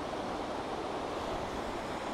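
Water at McLaren Falls makes a soft, even rushing hiss, a constant low-level flow with no breaks over a couple of seconds.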